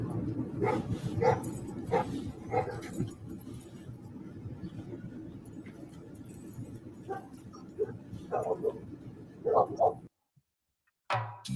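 A dog barks and whimpers in short yips at a distance, mixed under ongoing chatter and background noise before the sound cuts out abruptly.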